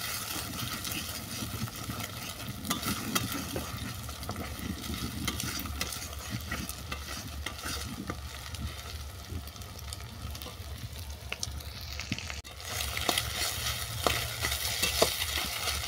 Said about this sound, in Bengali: ডিমটাকে এই সাইডেই ভালো করে ভেজে নিচ্ছি।